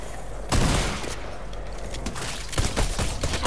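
Pistol gunfire from a video game: a loud burst of several rapid shots, then a lull, then more clustered sharp reports near the end, close and dominant with no talking.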